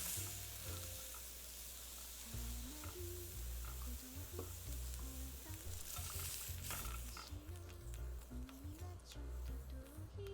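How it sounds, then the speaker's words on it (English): Food stir-fried in a pan of molten tin sizzles and crackles continuously, with scraping stirring strokes and small clicks over a steady hiss, fairly close and without talk. "Kind of stir fry these."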